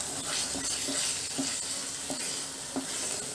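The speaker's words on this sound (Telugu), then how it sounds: "వేసుకొని బాగా మిక్స్ చేసుకుందాము" Spoon stirring carrot halwa with melted khoa in a hot pan, with a steady sizzle and regular scraping strokes close by, about one every half second, and no talking.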